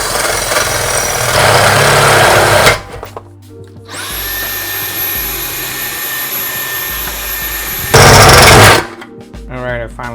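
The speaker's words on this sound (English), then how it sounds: "Now that I have the hole, I'm going to use this bigger drill bit." A power drill with a larger bit boring through metal while installing a water filter: two loud bursts of whirring, grinding drilling separated by a quieter machine hum with a high steady tone.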